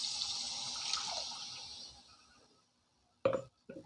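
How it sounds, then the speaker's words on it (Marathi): Water poured into a masala for paneer gravy from a mixer jar, a soft splashing trickle for about two seconds that fades out, followed by two short clinks or knocks. "मी पाणी टाकून घेतलेलं आहे याच्यामध्ये"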